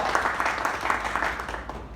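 An audience claps for the first speaker to come up at a gathering, a brief steady round of applause from a seated crowd.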